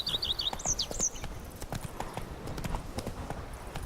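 Hooves of Roach, a galloping horse in The Witcher 3 video game, beat in a quick steady clip-clop rhythm throughout, with a few brief high chirps near the start.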